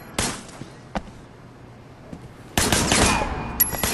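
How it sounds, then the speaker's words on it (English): A burst of gunfire in the video game Sleeping Dogs, with a couple of isolated sharp shots followed by a louder sustained volley of rapid fire near the end. "Shooting at the guys over there. There was a shooter. Firing shots from the passenger window."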